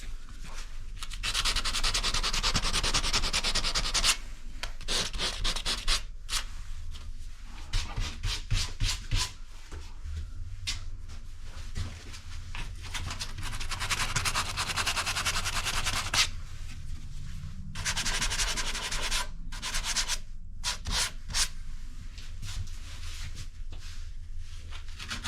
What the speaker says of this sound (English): Now I am sanding those ones just to get the rough sand off a little bit